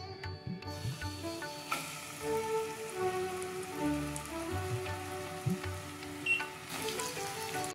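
Pieces of rohu fish sizzle steadily in hot oil, a continuous crackling hiss with scattered pops running throughout, close and moderately loud, over faint tonal background sound.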